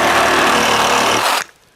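An old Ryobi reciprocating saw cuts hard and loud for over a second, a dense buzzing rasp that stops abruptly and leaves near silence.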